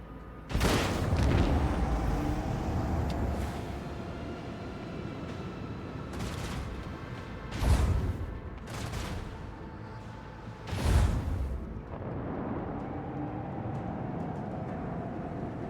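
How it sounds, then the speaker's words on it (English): Explosions from detonated Heartless in the Rogue Trader video game: a heavy blast opens, followed by several more deep booms spaced over a rumbling battle backdrop, loud and close without speech. "I can bring them over here, and I can detonate them"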